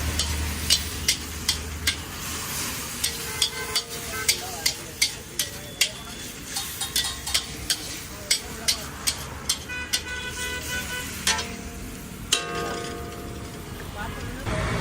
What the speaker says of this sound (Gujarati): જોઈ શકો છો ચટણી પણ આપણે શેકાઈ જાય છે